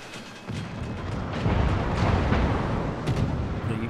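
Main gun salvos from the Italian tier-3 cruiser Taranto in World of Warships, a dense rumbling barrage of overlapping booms that swells and holds loud throughout, with no talking.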